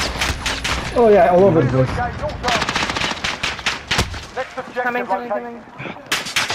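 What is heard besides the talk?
gunfire in a video game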